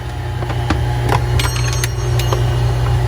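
A Kenmore garbage disposal runs with a loud, steady low grinding hum under the sink, overlaid by occasional clatters and rattles, with no talking.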